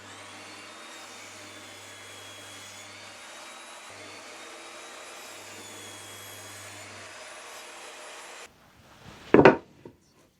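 A power saw cuts 45° angles in 3x2 timber, its motor holding a steady whining drone for about eight seconds before cutting off, followed by a few sharp, loud knocks and clatter of wood.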